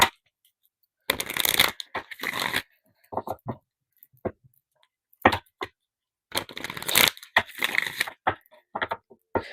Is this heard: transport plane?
no